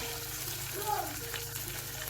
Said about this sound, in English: add one medium-sized red onion to the pan and fry for about a minute